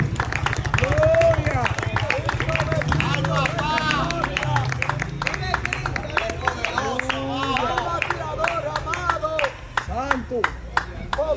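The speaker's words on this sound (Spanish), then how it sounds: "Un aplauso a Jesucristo." Church congregation clapping during a worship service, dense irregular hand claps mixed with crowd noise and overlapping voices and singing-like tones, fairly loud and continuous throughout.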